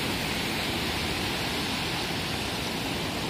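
Rough, churning sea surf at Praia dos Ingleses beach in Florianópolis, heard as a steady, dense wash of roaring water with no distinct breaks, moderately loud and unbroken throughout.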